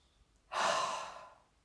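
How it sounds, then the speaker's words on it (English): One long, deep breath drawn in through the mouth, close and airy, rising quickly and then slowly fading over about a second. "And then take another full deep breath in."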